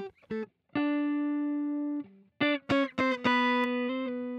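A Strat-style electric guitar runs through a Guitar Rig amp and cab simulation, playing a few short picked notes followed by longer sustained tones with their high end softened, clean and alone with no talking.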